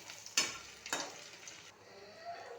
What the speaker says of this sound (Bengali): এইভাবে গোল্ডেন ফ্রাই করে ভেজে নেব